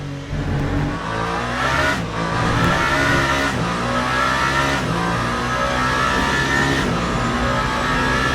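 Race car engine in the Le Mans Ultimate racing game, a loud sustained roar with shifting pitch as the car runs down a long straight, a few brief surges.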